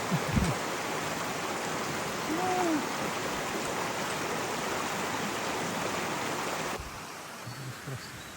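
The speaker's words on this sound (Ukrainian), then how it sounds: "Водопадики якісь." Small waterfalls in a river along the Lycian Way hiking trail, a steady close rushing of water that fills the whole clip, with a few faint tonal bird-like notes briefly over it.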